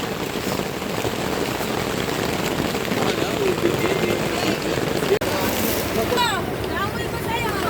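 Steady rain patters heavily on a surface at a campsite in Palauig, Zambales, in a dense, continuous hiss, with a voice speaking under it.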